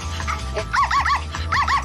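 A small dog gives a rapid run of sharp, yappy barks in two quick bursts, close by, with a low steady hum underneath.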